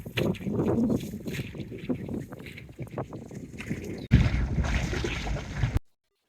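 Boat on a sunset cruise near a sandbar in Queensland, heard as a rough wash of water and wind buffeting the microphone, surging louder near the end before cutting off abruptly.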